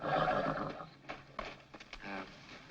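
A horse whinnies loudly and at length near the start, then gives a few shorter, softer snorts and sounds. Speech-like voicing runs under it, in a comedy setting about a talking horse.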